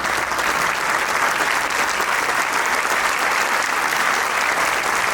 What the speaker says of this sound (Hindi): जोरदार तालियां इन सभी के लिए